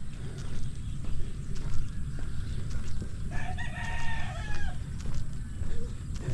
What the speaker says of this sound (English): There's the chickens and the dogs barking.